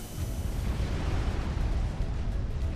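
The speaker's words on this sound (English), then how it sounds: "So so much in the way of explosions." Dense, continuous rumbling explosions and booms from a Supreme Commander: Forged Alliance real-time strategy battle, loud and sustained with overlapping blasts throughout.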